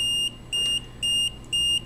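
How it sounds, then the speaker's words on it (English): A shrill electronic buzzer on a receiver beeps four times as the device goes out of range, in an even rhythm, each tone about a quarter second long with short gaps between. "The buzzer is buzzing."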